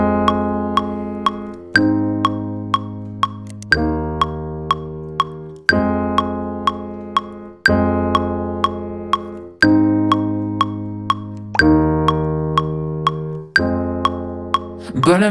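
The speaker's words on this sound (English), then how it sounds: "And the chord progression for my song sounds like this." Stock grand piano from Ableton playing a deep house chord progression; sustained block chords struck roughly every two seconds, each ringing and decaying, with lighter repeated notes above, and no voice.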